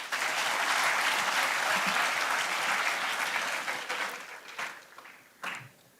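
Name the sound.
round of applause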